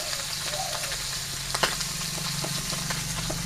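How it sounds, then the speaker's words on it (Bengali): Fish frying in oil in a frying pan, a loud continuous close sizzle with crackling spatter and one sharp clatter partway through, no voices. "মাছটা ভেজে নেবো আমি ফ্রাই প্যানে"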